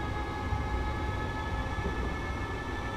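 Class 314 electric train running in Train Simulator, a steady low rumble and hiss of motors and wheels with faint tonal whine, continuous and even throughout.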